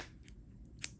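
Scissors snip yarn while a crocheted cardinal bird is being finished, with a few faint, quick cuts against quiet room tone and one sharper, brighter snip near the end.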